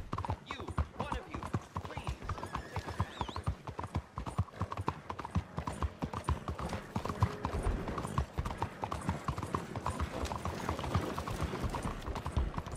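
Horse hooves galloping in the Red Dead Redemption 2 video game, a fast, continuous clip-clop rhythm on hard ground, moderately close, running throughout with faint game ambience.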